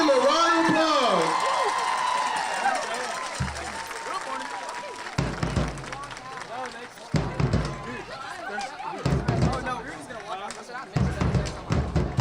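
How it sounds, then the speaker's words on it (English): Crowd applause and cheering break out in repeated bursts in the stands of a high school homecoming football game. A voice comes over the crowd at the start, then the clapping swells and fades several times. "let's give them a round of applause"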